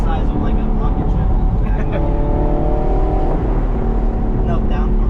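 A straight-piped, gated-manual Audi R8 with a big rear wing drives hard, its loud engine roaring steadily with a rising pull mid-way, while a voice talks over it inside the car.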